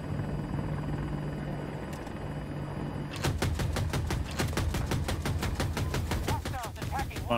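A helicopter in Battlefield 2042 thumps close and loud with rapid, regular rotor chops that start abruptly after a few seconds of engine drone and continue steadily.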